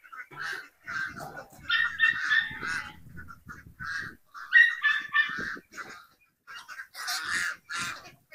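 Farm ducks, geese and chickens call together at feeding time, a busy chorus of repeated honks and squawks in bursts close by, with the flock gathered and clamoring throughout.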